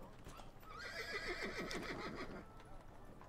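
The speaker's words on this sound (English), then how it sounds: "Hear the horse. He sounds enthusiastic." Horse neighing in the video game Patrician IV, a clear whinny with a rapid falling trill, faint and set over a steady background ambience, with hooves softly present.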